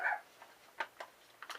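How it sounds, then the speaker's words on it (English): A dog barks indoors in the background, a few faint, short barks and yips spread across the moment. "That's Dash, I can tell the bark."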